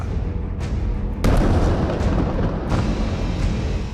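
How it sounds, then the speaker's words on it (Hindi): A heavy explosion, a Hezbollah strike on Israel, bursts with a deep boom, followed by a long rumbling roar and a second sharp crack partway through. "पहला धमाका,"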